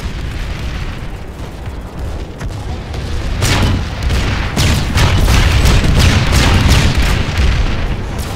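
Shield generator exploding in the video game Planetside, a loud sustained rumbling boom with heavy low-end roar and a cluster of sharper bursts building midway, dense and continuous throughout.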